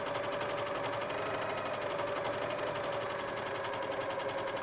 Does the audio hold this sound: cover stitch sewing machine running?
yes